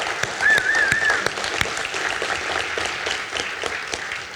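Steady crowd applause at a Las Cruces, New Mexico film event honors Governor Lujan Grisham, many hands clapping in a dense, even wash that holds for several seconds and slowly eases off.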